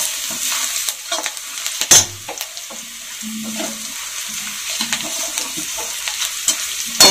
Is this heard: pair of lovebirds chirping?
no